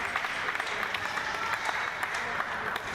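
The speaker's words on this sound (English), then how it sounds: "She's got a really good home support behind her, which you can hear wherever you're watching in the world." Home crowd cheering and applauding at a para table tennis match at the 2023 European Para Table Tennis Championships, a sustained wash of clapping with scattered sharper claps, moderately loud and continuous throughout.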